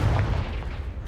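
A Confringo fire spell blasts off in the Hogwarts Legacy video game: one loud, booming burst with heavy low rumble up front that fades into a dull, sustained roar over about a second.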